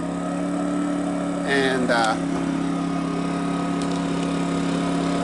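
A Westinghouse iGen2200C portable inverter generator runs smoothly at a steady, even drone throughout. A brief voice is heard over the hum.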